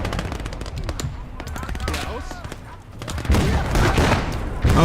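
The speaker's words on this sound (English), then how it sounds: "I'm using a anti-tank rifle here" Rapid, crackling gunfire and sharp shots from an anti-tank rifle and other weapons in the WWII Eastern Front game Call to Arms - Gates of Hell, a dense battle with bursts layered close and far.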